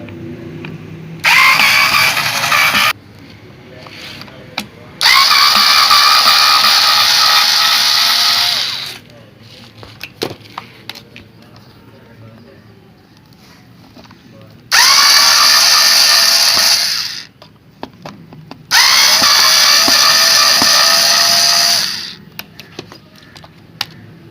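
Power screwdriver unscrewing the screws of a Sencor steam iron, running in four loud, close bursts of several seconds each, with small clicks and handling noises in the pauses between.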